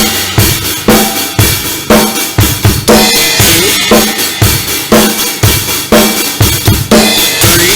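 A drum kit plays a beat, with loud, steady kick and snare hits and washing cymbals in a driving, repeating groove, with no talking.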